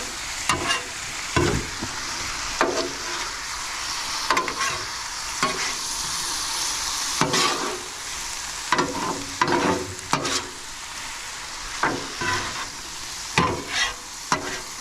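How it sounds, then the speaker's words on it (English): Meat and vegetables sizzle in a pan at a campsite while a utensil repeatedly scrapes and stirs them, giving loud, close, rhythmic bursts over a constant frying hiss. "let's mix the meat and the veggies together"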